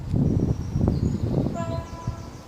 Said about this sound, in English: getting ready to pass by is a freight service